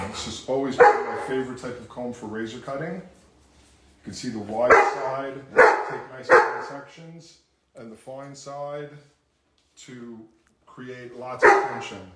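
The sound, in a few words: dog barking in the background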